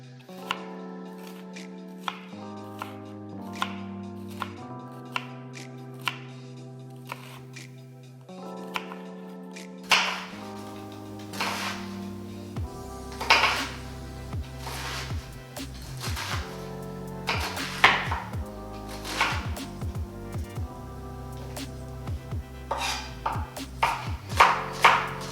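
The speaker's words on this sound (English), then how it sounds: "and then we chop." A knife chops vegetables for chickpea noodle soup on a cutting board in a run of crisp, close taps that speed up into a rapid rhythm, over background music with no talking.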